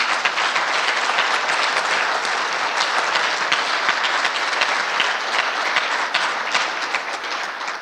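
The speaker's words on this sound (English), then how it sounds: "let's give him a round of applause" Dense, loud applause from a banquet audience at a community awards evening honouring a long-serving centre director, many hands clapping steadily, slightly tapering near the end.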